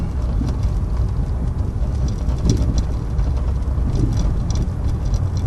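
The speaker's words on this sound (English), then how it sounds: "We are on a pretty rough brick street, so we'll hear a few little jiggles or vibrations." Inside a 2000 Jaguar XJR supercharged V8 sedan driving over a rough brick street, a steady low road rumble with faint small rattles and jiggles from the cabin, no voices.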